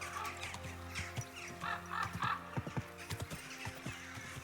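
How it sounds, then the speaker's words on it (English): Quick, even hoofbeats of a horse being ridden in the medieval game Kingdom Come Deliverance 2, close and clear over a soft musical drone, with faint bird calls and no talk. "Can't you say I'm riding a horse here, darling?"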